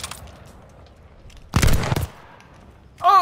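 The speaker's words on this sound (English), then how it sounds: "Oh, you shot me in the leg!" Gunfire in a first-person shooter video game: one loud half-second burst of rapid shots mid-clip over low background noise, with a brief electronic warbling sound at the end.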